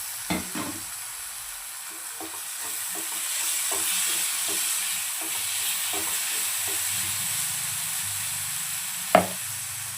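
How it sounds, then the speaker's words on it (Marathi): Finely chopped tomato sizzles in a frying pan for a dhaba-style baingan masala curry, a steady close hiss broken by repeated scraping stir strokes and a sharp clack of the spatula near the end. "तसेच यामध्ये मी बारीक चिरलेला टोमॅटो ॲड करते"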